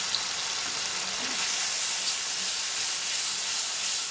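Tomatoes and onions with a pinch of turmeric cook down in a pan for Uttarakhand-style rajma, giving a steady, even sizzle and hiss that swells slightly midway, with no talking.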